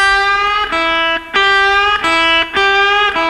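Electric blues guitar phrase repeating a slight bend of less than a half step followed by a pull-off to a lower note, several cycles in a steady rhythm, played loud and alone.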